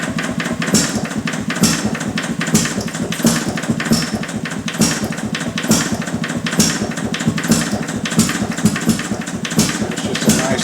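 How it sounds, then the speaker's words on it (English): Detroit Engine Works 2HP stationary engine idling steadily with a rapid, regular knocking beat, close and fairly loud, running alone without talk. "It's just a nice idle right there."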